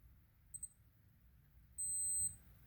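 A G-Shock Frogman 200m quartz diver watch gives two quick short beeps, then one longer steady beep as it enters dive mode. The beeps are thin and high-pitched, close by and alone in a quiet room.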